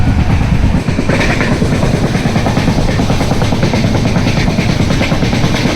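A Konkan Railway passenger train, the Okha express between Vasai and Kankavali, runs steadily as heard from a window seat inside, with a loud continuous rumble and rhythmic clatter of the wheels throughout.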